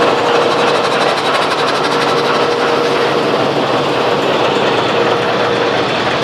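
An old British-era train locomotive idles at a station stop, its engine giving a loud, steady rumble and hiss that holds without a break from start to finish, with no talk over it.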